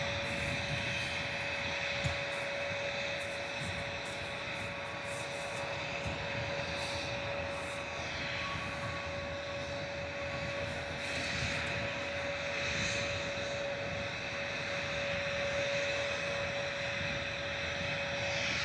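A Cathay Pacific airliner taxis at Manchester Airport, a steady droning engine whine with a sustained tone that holds evenly for nearly twenty seconds, heard from a distance with no talking.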